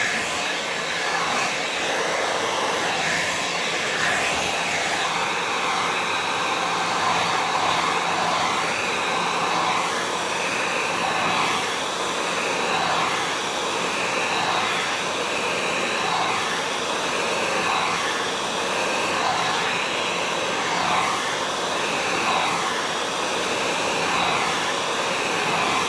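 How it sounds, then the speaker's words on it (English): A hair dryer blow-drying natural hair with the tension method, a steady loud whooshing roar that runs unbroken throughout with no talking. "what I'm going to do now is to blow dry again using the tension method"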